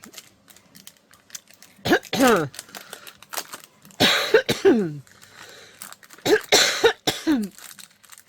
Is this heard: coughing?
yes